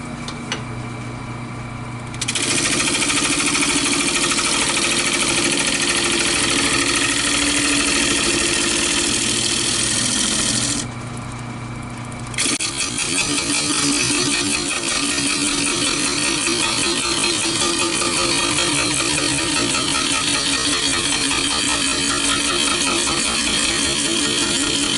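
A lathe turns a hard maple crotch blank, a loud, steady mechanical roar and hum running nearly throughout, with a brief shift in tone around the two- and twelve-second marks.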